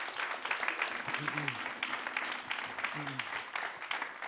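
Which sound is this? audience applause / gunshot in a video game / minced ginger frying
audience applause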